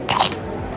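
Someone bites into a dry pastry bought in Morocco, giving one short, close crunch lasting a fraction of a second, then quiet.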